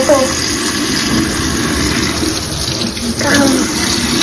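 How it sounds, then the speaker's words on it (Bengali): Water gushes loudly and steadily from an opened tap into a sink at home, a continuous close splashing rush that briefly dips and swells again, with faint voices in the background. "কল খোলো"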